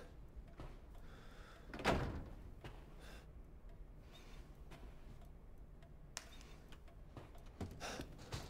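Doors swing open in the Resident Evil Village video game: one heavy thud and creak near the start, then a low, quiet room ambience with a few faint clicks and knocks, and no voices.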